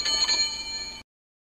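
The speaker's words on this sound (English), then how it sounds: "an old servant bell next to the fireplace began to ring loudly" An old servant bell beside a fireplace rings loudly for about a second, a bright metallic ringing that stops abruptly.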